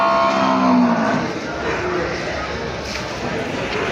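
A buffalo at a busy cattle market in Sheikhupura gives a low, drawn-out moo near the start. Crowd murmur and livestock noise fill the background.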